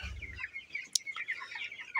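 Twenty-two-day-old broiler chickens on a poultry farm give soft, scattered clucks and chirps in a continuous flock murmur, fairly faint, with one brief sharp peep standing out.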